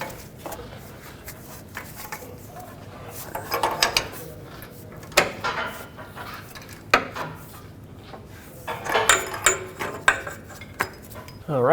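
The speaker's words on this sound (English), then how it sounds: "now that it's bottomed out, let's get our tool and tighten it up" A tool tightens a downstream oxygen sensor on a 2009-2014 Honda Fit, with irregular metallic clicks, ratcheting and clanks at close range, some louder bursts among quieter handling noise.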